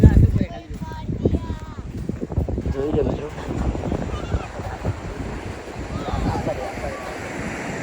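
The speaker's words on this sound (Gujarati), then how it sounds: "દરિયાના મોજા વધારે આવવા મળ્યા છે" Sea waves surge and wash in continuously at Gomti Ghat, Dwarka, with wind buffeting the microphone, while a person talks over the rushing surf.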